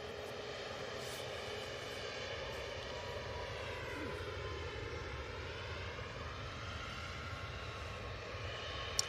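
A Ryanair Boeing 737 Max 8 departs runway 05 left, its jet engines a faint, steady distant rumble with a slowly shifting whine and no voices.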